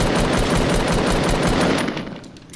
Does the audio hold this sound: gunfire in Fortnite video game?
yes